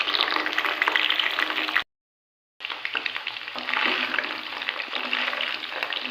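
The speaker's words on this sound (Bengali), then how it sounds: "গ্যাসের ফ্লেমটা এবার একটু বাড়িয়ে দিলাম, যাতে কপিটা খুব সুন্দরভাবে ভাজা হয়ে যায়।" Cauliflower pieces frying in oil over a gas flame turned up high, a dense, loud, continuous sizzle with stirring scrapes, broken by a short silent gap before the frying resumes.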